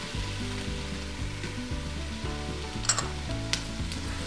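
Butter sizzling and frying in a pressure cooker pot for chicken riggies, a steady broad crackle with a couple of sharp clinks, no talking, while a musical background runs underneath.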